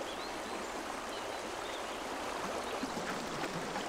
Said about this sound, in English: Rivers and burns now churn with meltwater.